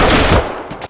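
Gunfire at shooting practice, with two sharp, loud shots in quick succession, each cutting off abruptly and ringing briefly.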